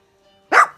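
A single sharp dog bark, loud and close, bursts out after a near-silent start and then fades quickly, with no talking over it.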